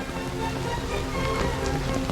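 Steady rain falls on a path beside a canal on a rainy day, a dense, continuous patter of drops close by with no break and no voices.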